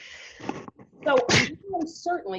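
A single quick sneeze bursts out in an online class, brief and fairly loud, amid a person's ongoing speech.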